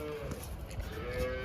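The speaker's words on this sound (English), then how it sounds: "So these are the newborn calves." Newborn calves, only a couple of days old, moo inside a dairy barn, giving one long low call that lasts through the clip over a steady barn hum.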